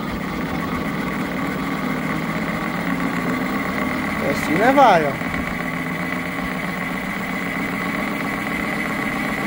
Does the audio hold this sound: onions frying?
no